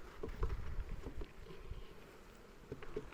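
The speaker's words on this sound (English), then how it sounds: "I'm simply going to dump the bees in here" Honeybees being dumped into a hive give off a soft, steady buzzing hum close by, with faint bumps and rustles and no voices.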